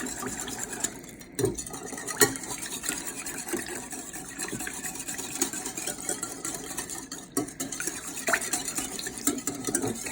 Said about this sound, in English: just gonna whisk all this together